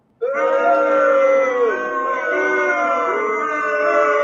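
A single voice imitates a wrestling crowd booing heels Tay Conti and Sammy Guevara, holding one loud, steady, droning boo for about four seconds after a sudden start.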